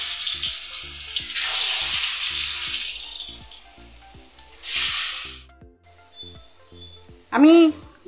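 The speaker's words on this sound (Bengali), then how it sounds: "আমি ডিমের টুকরোগুলোকে ভেজে নিলাম এবং তুলে নিচ্ছি" Pieces of vegetarian egg curry frying in hot oil with turmeric, giving a steady close sizzle with bursts of louder spattering, a few clinks of a utensil, and a voice talking over it.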